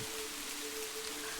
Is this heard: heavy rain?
yes